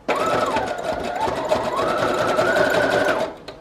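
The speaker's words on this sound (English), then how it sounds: "Let's do a zigzag stitch for this one." A sewing machine runs a zigzag stitch on a collage tag in one continuous loud burst, humming and whirring steadily for about three seconds before stopping.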